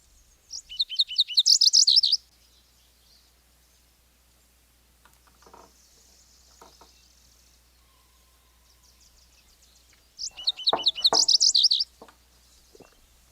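A male songbird in springtime sings two bright, rapid trilling phrases several seconds apart, each about a second long and fairly close, with faint soft clicks and near silence in between.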